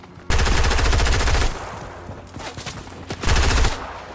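Rapid automatic gunfire in Fortnite, delivered as two loud, close bursts of fast shots with a quieter scatter of distant shots between them.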